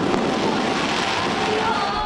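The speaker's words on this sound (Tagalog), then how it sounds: "Makulay na fireworks ang isinalubong sa Year of the Wood Dragon pagpatak ng hating gabi" Chinese New Year fireworks at midnight over Jones Bridge in Manila form a dense, continuous crackling roar of many bursts, loud and unbroken.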